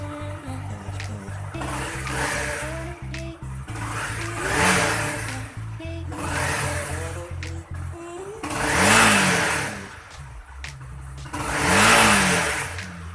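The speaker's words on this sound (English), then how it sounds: "Snap the throttle 3 to 4 times to completely bleed all the air out." Honda CRF250L motorcycle engine idles, then its throttle is snapped open several times, each blip rising into a loud rev and dropping back to idle, close by during a coolant change.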